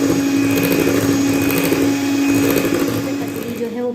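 An electric beater whirs steadily through thin lamington cake batter with milk, a loud close motor drone with a constant pitch that softens slightly toward the end.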